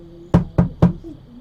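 Three firm knocks on a wooden door, evenly spaced and close, each a solid thud with a short decay, against quiet room tone.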